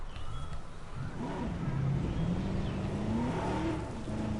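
A car driving in Jurassic World: Evolution, a moderate engine hum with gently rising and falling pitch as it accelerates and eases off, fairly close with no speech.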